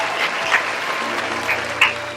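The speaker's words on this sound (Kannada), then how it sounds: "ಒಂದ್ಸರಿ ಜೋರಾಗಿ ಚಪ್ಪಾಳೆ ತಟ್ಟಬೇಕು" An audience at a village Mother's Day gathering breaks into a short burst of clapping, moderately loud and scattered, lasting about two seconds.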